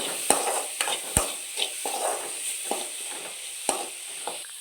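Banana stem and vegetables with turmeric are stirred in a sizzling pan, with sharp scraping clicks of a utensil at irregular intervals over a steady frying hiss.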